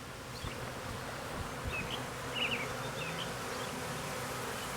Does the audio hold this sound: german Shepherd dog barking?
no